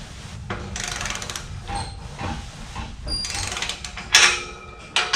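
A torque wrench set to 30 foot-pounds tightens bolts on a radiant tube heater in a shop, giving close ratcheting clicks and metallic clatter with a couple of sharper snaps near the end.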